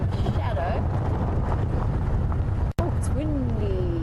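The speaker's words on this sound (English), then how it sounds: "Oh, it's windy." Wind gusts buffet the microphone on a safari game drive, a constant rough rushing noise with a brief dropout midway and faint bird calls audible over it.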